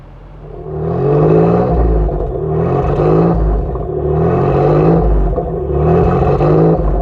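A Nissan 300ZX Anniversary Edition engine rumbles low and revs up and down in four rhythmic surges as the car creeps along nearby.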